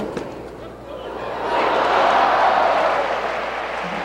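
A 1978 pro tennis crowd at a Boston Lobsters versus San Francisco Golden Gaters match breaks into applause after a lucky net-cord lob, a swelling wash of clapping that holds steady, with a commentator's voice at the start.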